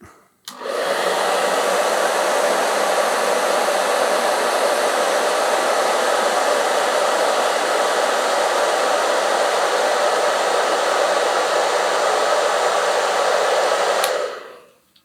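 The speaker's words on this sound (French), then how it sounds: "pour vous montrer les ventilateurs en fonctionnement" Cooling fans of a Begode RS electric unicycle spin up and run as a loud, steady broadband whoosh for about thirteen seconds, then cut off abruptly.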